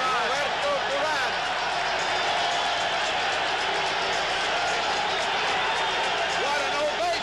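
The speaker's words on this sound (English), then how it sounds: "What an ovation. Listen to this crowd." A packed boxing arena crowd roars in a sustained ovation for Roberto Duran entering the ring against Sugar Ray Leonard, a dense wall of cheering and clapping with drums beating, steady and loud throughout.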